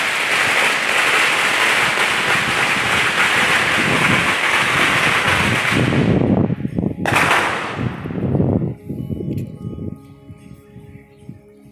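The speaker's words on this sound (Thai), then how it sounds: "เสียงจุดประทัดแก้บนนะครับ" At a Thai temple, firecrackers lit as a vow offering rattle in a dense, loud crackling barrage for about six seconds, then break into scattered, irregular bangs that fade away.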